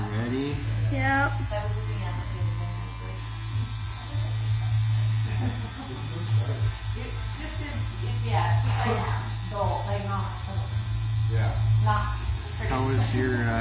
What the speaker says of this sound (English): I'm gonna show you guys the clip of when he first put the needle on